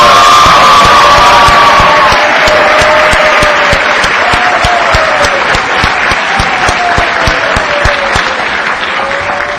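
A large audience at a high school graduation ceremony breaks into loud sustained applause, with cheers and whoops rising over the clapping and a few long shouts carrying through as it slowly eases off.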